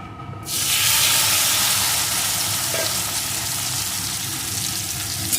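Marinated taro pieces dropped into hot oil with tempered cumin seeds, erupting into a loud, dense sizzle that starts abruptly after a brief quiet moment and keeps hissing steadily close by.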